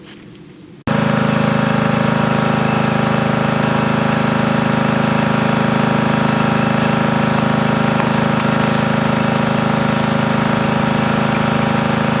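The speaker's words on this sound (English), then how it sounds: "We'll start the other lawnmower up." A small lawn mower engine suddenly starts and runs loud and steady, a constant mechanical drone close by with no talking.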